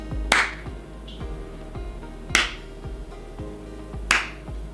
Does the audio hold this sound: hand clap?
yes